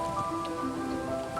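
Heavy rain pours steadily, a continuous close hiss of drops striking the ground, with sustained musical tones layered underneath throughout.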